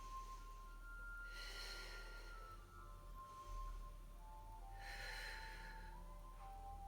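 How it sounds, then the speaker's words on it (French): Slow, audible breaths in and out during a Pilates exercise: two or three drawn-out exhalations close to the mic over a low steady hum, with no talking. "Inspire, expire."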